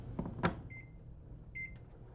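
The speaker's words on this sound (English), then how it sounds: "Next, chocolate and milk microwave for 30 seconds, just long enough to melt the chocolate." A microwave oven heats a mug of chocolate and milk, with a brief clatter of the door or mug followed by two clear electronic beeps, one at the start and one near the end, and a quiet hum between.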